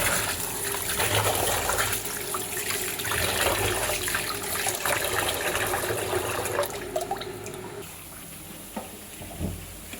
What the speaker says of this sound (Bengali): চালটা ভালো করে ধুয়ে